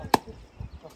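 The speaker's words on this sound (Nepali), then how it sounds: "यो लोकल कुखुरा चाहिँ यसरी काटिन्छ" A single sharp knife chop cuts into a local chicken, outdoors in the mountains, followed by a couple of softer thuds; close and short.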